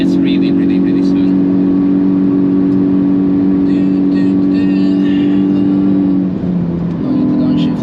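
A RaceChip-tuned Hyundai i20 N accelerates on the Nürburgring, its engine droning steadily from inside the cabin. Near the end the pitch drops briefly, then rises again.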